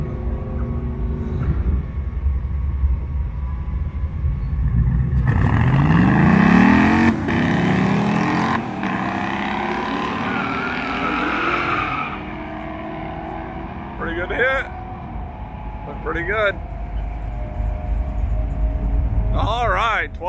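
A Buick race car on a mountain run, a loud engine roar climbing through gear shifts, then fading off into the distance, with people talking over it.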